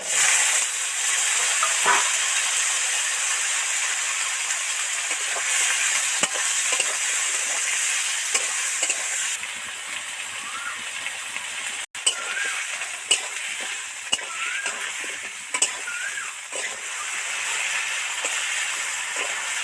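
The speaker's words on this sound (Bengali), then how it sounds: "এবার এই আলু বেগুন আর টমেটোটা তেলের মধ্যে ছেড়ে দেবো" Potato, eggplant and tomato pieces sizzle steadily in hot oil with spices, a loud continuous hiss broken by a few scraping stirs and small pops, with no talk.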